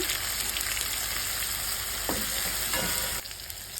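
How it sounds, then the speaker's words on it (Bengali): Dried shrimp frying with garlic paste in a pan, a dense continuous sizzle with a few stirring scrapes, quieting abruptly near the end. "হালকা একটু ভেজে নিন, একটু রসুন বাটা দিয়ে দিলাম"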